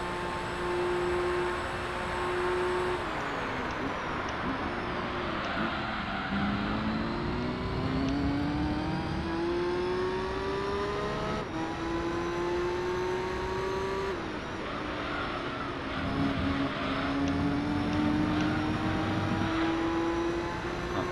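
Race car engines in Gran Turismo 3 during the Tokyo R246 endurance race, an NSX among the cars, droning loudly and steadily with pitch climbing through gears and dropping at shifts, continuous without pause.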